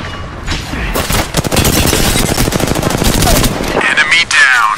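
Sustained automatic gunfire from an Apex Legends match, loud and close, with rapid overlapping bursts for most of the stretch, thinning near the end as game voice lines and effects come through.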